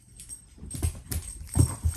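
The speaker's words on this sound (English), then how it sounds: "Stop barking at each other." Dogs scuffle and play at close range, with soft thumps, paw scrabbling and brief low grumbles rising toward the end, moderately loud with no talk over them.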